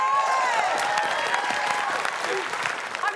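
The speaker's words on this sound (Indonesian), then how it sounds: "Oke, sekali lagi kita beri tepuk tangan selamat untuk tim B." A studio audience claps warmly for team B on an Indonesian game show, a dense, steady burst of applause that eases off slightly toward the end.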